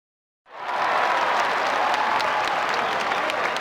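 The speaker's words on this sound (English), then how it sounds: "That was like a stadium cheer sound effect for like 8 people." A stadium cheer sound effect from a skateboarding video game, a thin crowd applause and cheering burst that starts abruptly after a short silence and holds steady at moderate volume.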